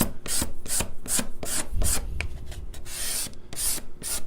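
A steel card scraper strokes straight up and down across a sanded wooden guitar or ukulele surface, giving a rapid series of close, crisp rasping scrapes in an even rhythm with no speech.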